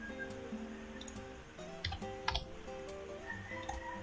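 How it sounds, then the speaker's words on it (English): A short command is typed on a computer keyboard while drawing in AutoCAD, with a few scattered key clicks over a faint tonal hum, alone and without speech. "We will just type SPL."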